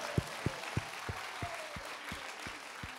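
Sparse rhythmic clapping at a Korean church revival prayer meeting, about nine evenly spaced claps in a slow beat, fairly quiet with a faint tonal voice drawn out in the background.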